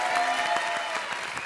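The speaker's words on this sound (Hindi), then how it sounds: "ताली बजाओ" Studio audience applause on a televised Hindi comedy show, a dense steady wash of many hands clapping close and loud through the whole moment, with no talk over it.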